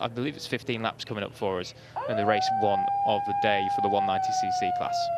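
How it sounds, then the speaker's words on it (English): Warning sirens sound at the 2023 FIM MiniGP World Series final in Valencia, signalling that the 190cc race is about to start. A steady, slightly falling wail begins partway through and holds under continuous commentary. "You can hear the sirens in the background just giving us a signal as it's nearly time to race here."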